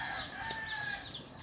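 Free-range chickens cluck and a rooster crows in a small coop at dawn, with several overlapping calls close by and loud, and no talking.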